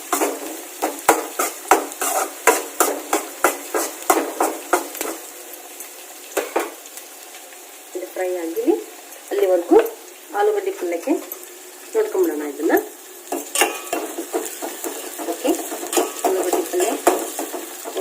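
Carrots and beans sizzle in an oiled pan while a spatula stirs and scrapes in quick repeated strokes. Steady frying hiss runs underneath, and a voice speaks briefly midway.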